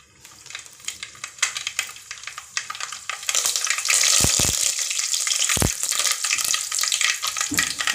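Mustard seeds and curry leaves sizzling and crackling in hot oil for a tempering, a steady loud fry with sharp popping bursts, no talking.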